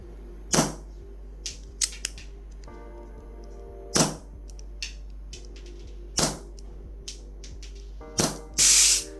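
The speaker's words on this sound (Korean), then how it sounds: "이번에도 가스가 또 새버렸네요" Repeated sharp gas bursts from a gas blowback airsoft pistol running on 12 kg pressure gas, four loud isolated pops spaced a couple of seconds apart, followed by a sustained hiss of leaking gas, with faint mechanical clicks between.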